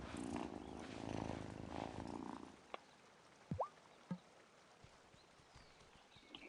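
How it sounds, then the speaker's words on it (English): A cat in Wylde Flowers purrs softly while being petted, a low rumbling purr for the first couple of seconds, followed by a few faint clicks and light taps in a quiet scene. "Oh, such a good cat."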